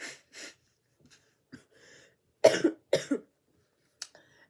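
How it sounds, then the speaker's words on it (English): Several harsh coughs in bursts, with sniffling and breathy noises between them, close to the listener and no talking. "listening to me blow my nose and cough"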